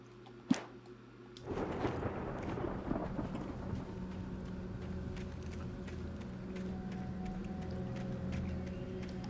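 Thunderstorm in the video game Alan Wake: a sharp crack opens, then a dense steady wash of rain and rumbling storm noise holds loud and even to the end, with no voices.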